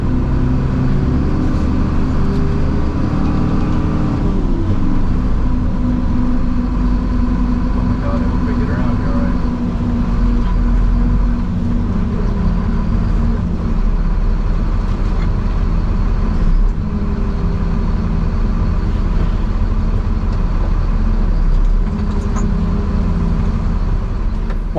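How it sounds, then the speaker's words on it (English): Mercedes-Benz Unimog U500 (North American version) creeping along at walking pace with an automated transmission, its engine drone loud and steady with brief pitch dips as it shifts gears rapidly; a voice talks over it throughout. "One thing you might notice here is the rapid shifting."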